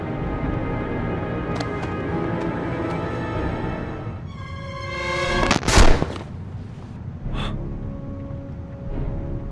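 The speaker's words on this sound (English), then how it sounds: "I... I shot him." A gunshot in the video game Heavy Rain: one loud, sharp blast amid tense game audio and low background sound, followed by a quieter echoing tail.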